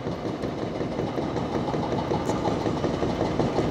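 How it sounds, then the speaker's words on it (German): A hydraulic hammer on an excavator chisels at a demolition site where an old stop is being torn down. It makes a steady, rapid mechanical hammering over a constant engine drone at moderate distance. "Ich höre einen Bagger meißeln."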